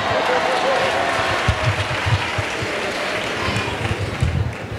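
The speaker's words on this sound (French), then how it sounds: "Let's clap for Jesus Christ." Audience at a church testimony gathering clapping in a broad, steady wash of applause with cheering voices mixed in, some sharper individual claps standing out, filling the whole stretch at close range.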